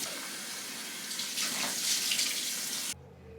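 Tap water pours steadily into a sink for face washing, a close, bright rushing stream that cuts off abruptly near the end, leaving quiet room tone.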